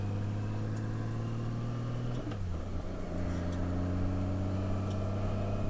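A Honda Goldwing F6B motorcycle rides through Lexington with a steady, close engine drone whose pitch dips once and then holds even, with road and wind noise underneath.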